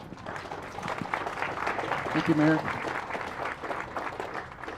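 Ceremony audience applauding for a rec center anniversary event, steady clapping throughout while someone speaks briefly over it.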